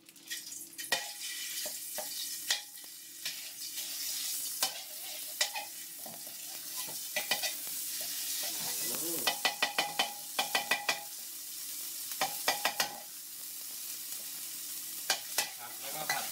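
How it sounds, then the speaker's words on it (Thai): Thai curry paste stir-frying in oil in a wok for a minced pork chili stir-fry, a continuous sizzle punctuated by sharp, repeated spatula clacks and scrapes against the pan. "ใส่น้ำมันลงไปในกระทะหน่อยนะครับ ก็เอาเครื่องแกงนะครับใส่เข้าไปไม่ต้องเยอะมาก"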